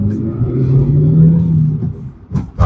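A Hyundai Venue running on CNG accelerates, its engine rising in a low throaty drone that swells and then drops away, with clattering knocks near the end.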